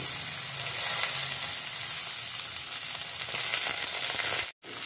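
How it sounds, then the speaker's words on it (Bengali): Rice for basanti polao frying in hot spiced oil over a high flame, a continuous close sizzle with stirring scrapes throughout, briefly cutting out near the end, no voices. "ফ্লেমটাকে হাইতে রেখে চালটাকে একটু ভেজে নিতে হবে ক্রমাগত নেড়ে"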